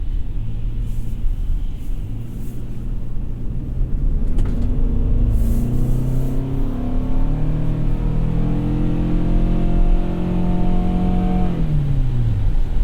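A 2021 Toyota Sienna minivan accelerates hard from inside the cabin, its engine drone rising steadily in pitch through gears with a loud continuous rumble and no talk.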